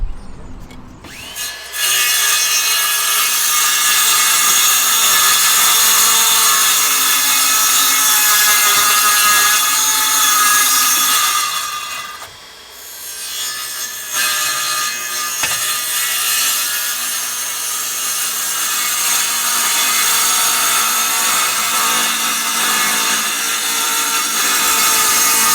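Wood being sawn for a narrowboat floor, a loud, steady rasping cut that runs almost without a break, with one short pause midway.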